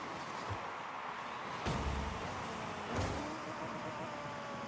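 Rocket League video game cars at a zero-gravity kickoff, a steady motor hum with brief whooshing surges, moderately loud and continuous.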